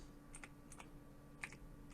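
A few scattered key presses on a computer keyboard as a command is typed, soft and close with sparse clicks over a faint steady hum.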